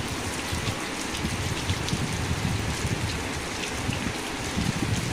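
Heavy rain pours down outside a home in a low-lying area prone to waterlogging, a dense, steady hiss of drops drumming on surfaces, close and continuous for several seconds with no voices.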